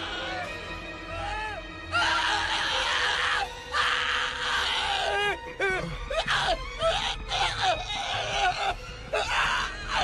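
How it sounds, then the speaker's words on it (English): Anime character lets out drawn-out, wailing screams and moans in repeated bursts, loud and close, with brief gaps and strained breathy cries between them. "What was with that scream?"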